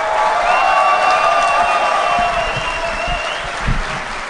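An audience at a DEFCON 17 conference talk applauds steadily and loudly for several seconds, a continuous wash of clapping with a few cheers mixed in.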